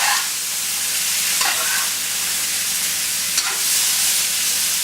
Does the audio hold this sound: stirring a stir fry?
yes